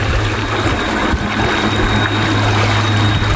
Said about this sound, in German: Und das ist der E-Motor.